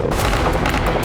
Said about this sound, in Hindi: ये वीडियो मध्य अलेप्पो का है जहां रूस ने हवाई हमले में बारूदी तबाही मचा दी।